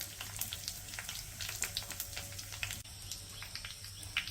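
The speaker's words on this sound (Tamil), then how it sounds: "இப்போ தாளிக்கிறதுக்கு எண்ணெய் சேர்த்துக்கலாம்." Oil crackles and sizzles steadily in a pan close up as tempering spices, vadagam and dried red chillies, fry, with small pops and spits, a faint high chirping in the background.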